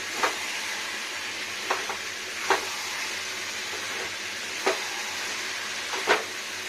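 Chicken curry with coriander powder stirred in a pan, a steady close sizzle and hiss with several sharp spatula scrapes spaced a second or so apart.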